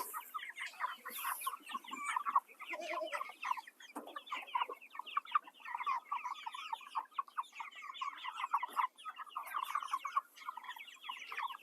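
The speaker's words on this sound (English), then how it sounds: "So we're going to feed these chickens" Chickens cluck and chatter steadily in a farmyard pen, a busy overlapping flock sound with bursts of higher squawks, fairly close and continuous with no talking.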